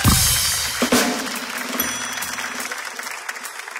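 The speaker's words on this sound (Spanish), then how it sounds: "Un aplauso por para favor, él." Studio audience applauding loudly on a Chilean comedy show, dense clapping that starts strong and slowly tapers while a low musical tone sustains beneath it.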